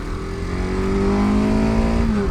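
A Husqvarna 701 693cc motorcycle accelerates hard out of turns, its loud, close engine note climbing steadily in pitch with a brief dip near the end, uninterrupted by voices.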